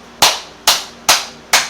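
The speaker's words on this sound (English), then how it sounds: "Y'all wanted me to clap." Four sharp, evenly spaced hand claps ring out close and loud, each with a short decaying tail, and nothing else in between.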